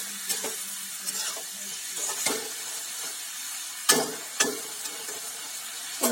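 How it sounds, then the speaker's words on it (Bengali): Cabbage curry with sugar and chopped coriander leaves is stirred in a pan, a soft sizzle under scraping strokes with a few louder spoon knocks, close by and free of talk. "আবার এগুলো দিয়ে একটু ভালো করে নেড়ে নিচ্ছি।"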